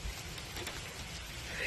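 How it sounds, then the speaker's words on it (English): Heavy rain pours steadily at a campground in a state park, a dense, loud hiss of water drumming on surfaces nearby, continuous and unbroken with no voices. "And it is pouring now."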